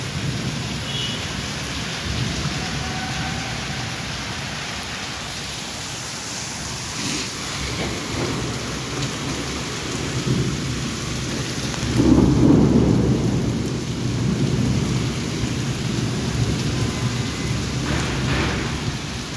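Heavy Kalbaishakhi storm rain pours steadily around a university building in Sylhet, with thunder rumbling throughout and one loud, close crash near the middle, all without speech.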